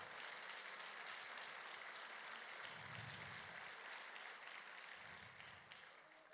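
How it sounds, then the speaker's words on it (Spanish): A church congregation applauds in a sustained, dense wash of clapping that stays even for several seconds and then gradually fades, heard from a slight distance and free of speech. "Dele un aplauso ahí al Señor."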